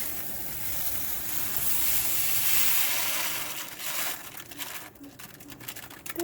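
Pot of boiling water poured out into a sink, a broad rushing, splashing wash that swells, then thins into scattered drips and clatter near the end, with no voices.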